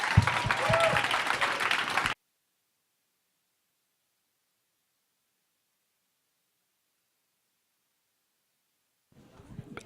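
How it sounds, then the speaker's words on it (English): Audience applause at an artists' panel discussion, a dense burst of clapping for about two seconds that cuts off abruptly, followed by silence and then faint rustling. "Can we have a round of applause?"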